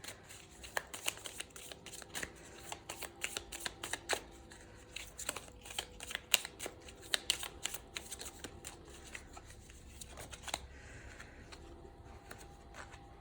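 A deck of Sibylle oracle cards is shuffled by hand, giving a steady run of soft, crisp riffling and flicking that goes on for several seconds, close and fairly quiet, with no talking.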